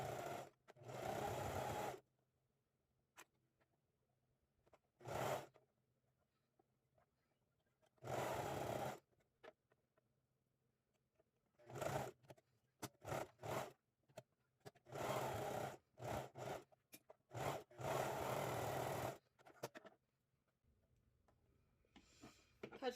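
A sewing machine stitches a homemade sleep bonnet in several bursts of steady whirring, each a few seconds long, separated by quiet pauses and small handling clicks.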